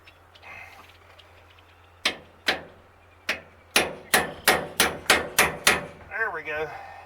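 Hammer tapping a spacer into a rat rod link bar, a few spaced metallic knocks followed by a quicker run of about eight sharp taps, close and loud, with a brief voice at the end.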